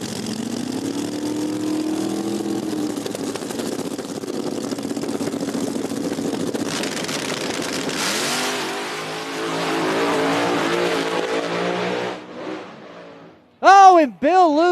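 Roaring small-tire drag race cars run loud and steady, then surge as they accelerate down the strip, with a sharp high-pitched whine near the end.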